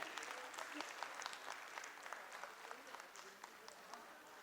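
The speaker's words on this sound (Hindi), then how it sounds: "आप सभी की जोरदार तालियां होनी चाहिए।" A hall audience claps for a team called up onto the stage, a fairly faint but continuous patter of many hands with small swells and no clear speech on top.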